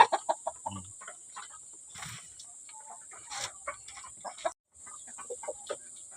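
Chickens feed on chopped cooked corn, giving a run of soft close clucks and quick pecking taps, spaced and irregular against a quiet background with a steady faint high tone.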